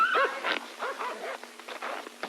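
Dogs in a forest setting yip, bark and whimper in quick, close, agitated bursts, continuing without a pause and with no talk.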